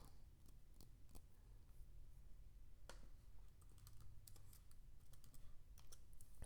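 Computer keyboard typing heard as scattered light key clicks in quick irregular bursts, close but quiet over a steady low background hum.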